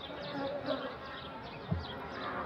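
Honeybees buzzing around a strong hive newly combined from six colonies, a dense, continuous hum with individual bees zipping past now and then, moderately quiet and outdoors, with no talking.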